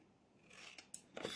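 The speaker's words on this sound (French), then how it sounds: "Vous prenez votre paire de ciseaux et on va légèrement biseauter ici." Scissors snipping at a cut edge to bevel it while making an elevator-shaped box, a few quick close scrapes and snips with a louder final cut, alone with no talk.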